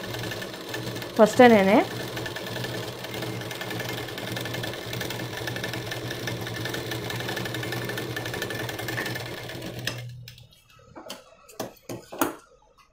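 Sewing machine stitching a puff sleeve for about ten seconds, a close, steady mechanical whir under a brief spoken word, then stopping into quiet with a few small clicks and handling noises.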